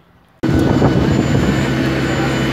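Loud, steady roar of an airplane at an airport kicks in abruptly after a quiet moment and continues unbroken, a dense broadband engine rush with a faint high whine on top.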